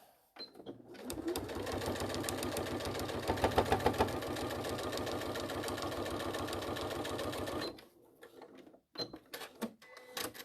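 A sewing machine runs steadily for about seven seconds, stitching across a crazy patchwork piece with a fast, even mechanical rattle, then stops, leaving a few faint handling clicks.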